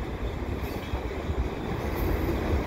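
A CP mixed freight train at Dorval rolls steadily past close by, a continuous low rumble of wheels and old boxcars with faint squeal and clatter, no talking.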